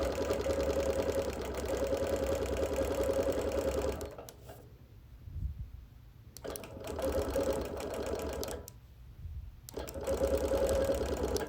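A sewing machine quilts busy printed fabric in a custom pattern, running in long steady stretches broken by two short pauses, close and even, with no talk.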